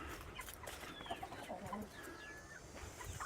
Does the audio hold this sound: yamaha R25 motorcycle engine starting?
no